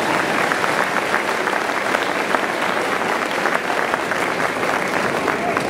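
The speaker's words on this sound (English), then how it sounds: "let's give her a round of applause" Audience clapping at an elementary school Grandparent's Day event, a steady, loud round of applause from many hands that continues without a break.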